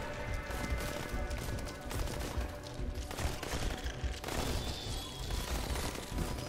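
Assault rifle and SMG gunfire in a comic-book space tower defense game: dense, continuous crackling bursts of rapid shots and impacts, steady and loud with no pauses.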